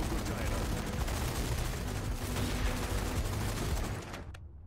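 Constant, dense shotgun and automatic gunfire in a zombie video game roars loudly and close for about four seconds, then cuts off abruptly into quieter game noise.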